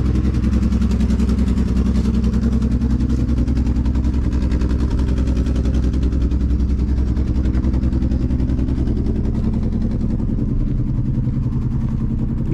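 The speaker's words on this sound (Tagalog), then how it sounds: "Pakinggan nyo ang sasakyan ko mga boss." A car engine idles in cold weather just after being started, holding a steady, loud, low rumble with no change in pace and no voices.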